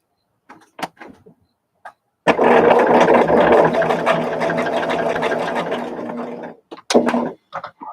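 A sewing machine stitches quilt fabric in one continuous run of about four seconds, close and loud, with a rapid steady chatter. Short handling clicks and rustles come before and after the run.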